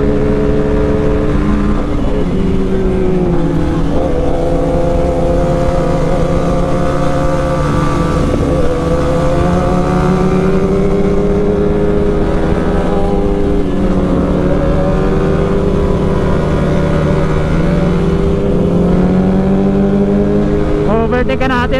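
Motorcycle engine revving hard and climbing through the gears on a winding uphill mountain road while overtaking a Honda CB 650, loud and continuous with rising and falling pitch sweeps.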